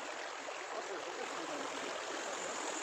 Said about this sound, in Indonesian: Ini nyebrang sungai, lumayan deras airnya.